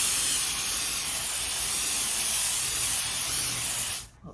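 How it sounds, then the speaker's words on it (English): A can of spray adhesive hisses in one continuous burst onto a stencil, a bright steady spray that cuts off abruptly near the end. "I'm just going to spray this where I haven't used it yet, the adhesive yet"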